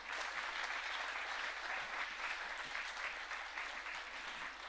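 Sustained applause from a church congregation during a Bible study service, even and continuous with dense clapping and no talk over it.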